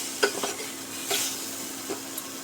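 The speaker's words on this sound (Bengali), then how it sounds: "দিয়ে ভালো করে নেড়ে নেব" Dal being stirred with turmeric and salt for a sweet-sour raw mango dal: a few soft spoon scrapes and light hiss in the pot, quiet and close, with no talk.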